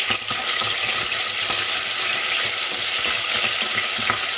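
Bacon bits frying in a pan toward crispness give a steady, close sizzle with dense crackling and small pops, no voices over it.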